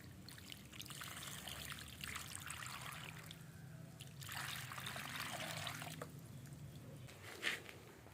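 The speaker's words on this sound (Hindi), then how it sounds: "पानी मैंने दे दिया है।" Water trickles and splashes into potato grow bags at home, a soft close pouring with dribbling bursts that swell and fade, ending in a brief drip.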